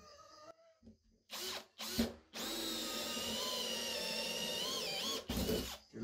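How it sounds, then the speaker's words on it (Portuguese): An electric drill with a hole saw bores through a flange on a homemade 12V tractor sprayer, a steady close whine after a few short starts and handling knocks, with no talk. "Vou furar com a serra coco já na medida aqui da flange."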